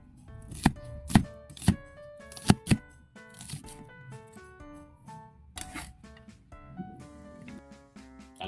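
A knife chops garlic and onion on a board in a series of sharp, uneven strikes: a quick cluster, a pause, then more cuts. Faint tonal music plays in the background.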